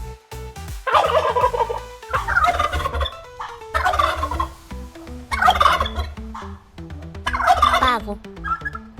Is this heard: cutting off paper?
no